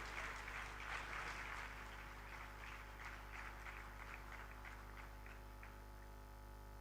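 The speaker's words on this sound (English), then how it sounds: "one more round of applause for all the awardees" An audience at a national award ceremony applauds the awardees, a steady soft patter of many hands heard at a distance over a constant hum, tapering slightly toward the end.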